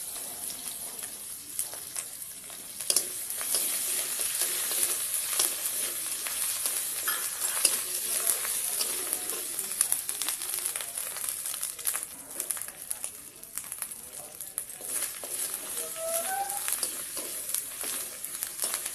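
Ginger paste and green chillies frying in oil, a soft continuous crackling sizzle with light stirring and scraping heard up close, no talking.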